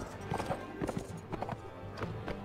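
Horse hooves galloping in the PC video game Mount and Blade Warband, a steady rapid clip-clop of repeated hoof strikes heard amid busy battle noise.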